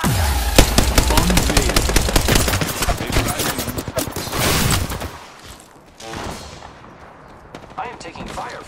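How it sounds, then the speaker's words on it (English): Rapid automatic gunfire from the video game Apex Legends rattles in dense bursts for about five seconds, then gives way to scattered quieter shots and game effects. "I am taking fire, friends."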